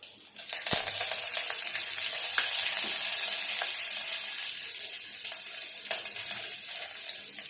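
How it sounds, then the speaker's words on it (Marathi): Curry leaves dropped into hot oil already holding mustard seeds, cumin and asafoetida for a Maharashtrian dahi kadhi tempering, setting off a sudden sharp crackle that settles into steady spitting sizzle with scattered pops. "इथे मी कढीपत्ता टाकणार आहे"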